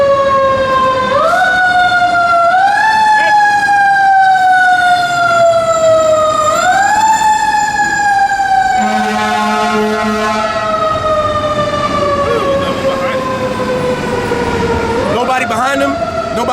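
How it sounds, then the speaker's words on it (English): A fire truck siren wails loudly and continuously, its pitch rising and falling in repeated sweeps, with a second siren tone joining midway, while a voice talks over it. "Just running that siren, man."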